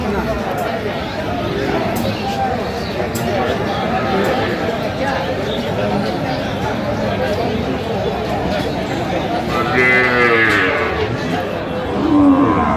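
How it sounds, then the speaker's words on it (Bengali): Cows and calves low at a busy village cattle market, with occasional moos rising over constant crowd chatter and voices nearby. "গাভী বাছুর আমরা দেখছিলাম এখানে"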